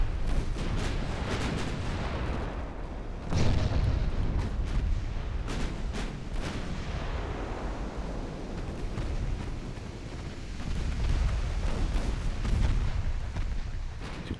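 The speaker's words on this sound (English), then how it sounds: "Archangel Uriel taking a lot of main belt penetrations from my 12-inch guns." Deep, rolling booms from 12-inch battleship main guns in a 1904 naval battle off the Philippines in Ultimate Admiral Dreadnoughts, several heavy salvos thundering and echoing one after another at a distance.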